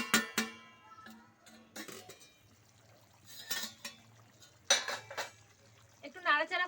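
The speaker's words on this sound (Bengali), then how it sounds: "এবার আমি ঢাকনাটা তুলে দেখে নিচ্ছি একবার" Metal lid lifted off a pot of chicken gravy being slow-cooked, with clinks and clatter of cookware and a spoon scraping, interspersed with quiet gaps and a faint low hum.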